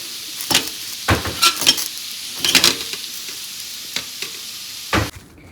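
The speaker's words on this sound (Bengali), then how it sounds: "আস্তে আস্তে সিদ্ধ হয়ে যাবে আর পেঁপে ভাজাও হয়ে যাবে।" Papaya pieces frying in a pan with salt and turmeric, a steady sizzle broken by several sharp spatula scrapes and stirring knocks, close and fairly loud, with no talking.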